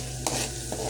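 Chopped garlic sautés in a hot pan with a close, continuous sizzle, broken by two quick scraping stirs of a utensil against the pan.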